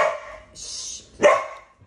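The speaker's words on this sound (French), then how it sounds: "là maintenant on va entendre les chiens vu qu'on est dans un petit appartement" Dogs bark inside a small apartment: two sharp, fairly close barks about a second apart, with no talking.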